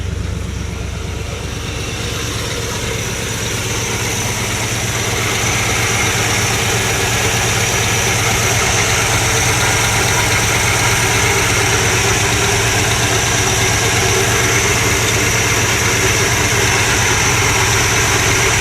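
A 1957 Chevrolet 150 sedan engine idles steadily with a low, even rumble and a quiet original exhaust, holding a constant level throughout with no other sounds.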